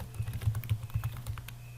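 Typing on a computer keyboard, heard as a steady, close run of quick light key clicks with no talking, while a caption table is being formatted.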